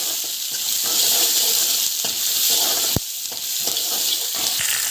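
Onions fry in oil with salt, a dense steady hiss of sizzling close by with a sharp clank near the middle and faint stirring, no one speaking.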